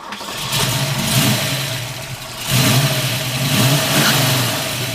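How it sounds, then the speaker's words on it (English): The 1970 Ford Boss 302 V8 with solid lifters fires up and revs, a loud, close engine that catches and swells through two throaty rev surges before settling into a rough, lumpy idle. "We'll fire this one up for you right now."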